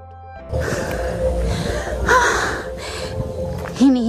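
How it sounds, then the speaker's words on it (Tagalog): A person pants heavily after walking uphill at a provincial fiesta in Igcabugao, Iloilo, with breathy gasps and snorts close to the microphone, some tonal background sound and a brief voice near the end. "Hinihingal ako."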